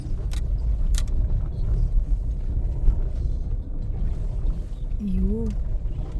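A car lurches over big potholes on a rough, unpaved dirt road near Kabini, giving a steady low rumble with occasional knocks and clunks, while a voice briefly speaks inside near the end.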